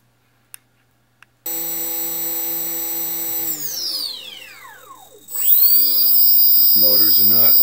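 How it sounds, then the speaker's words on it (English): A servo motor on a YS-X6 Steadi470 camera stabilizer gives a steady high electric whine that dips and sags in pitch, then climbs back to a sustained whir, heard up close after a couple of faint clicks. "the sound of the servo"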